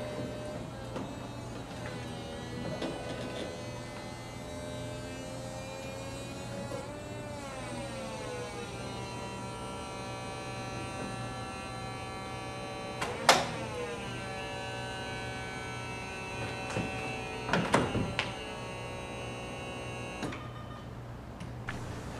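Power convertible top of a 2004 Ferrari 360 Spider rising under a steady electric motor hum with a high whine, ending with a few sharp clicks and clunks as it seats, alone and close.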